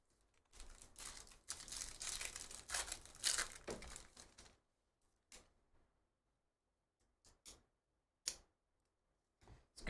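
2023 Topps Stadium Club baseball hobby packs are torn open in a long crinkling foil rip lasting several seconds, then a few sharp isolated crinkles and snaps follow amid near silence, close to the microphone.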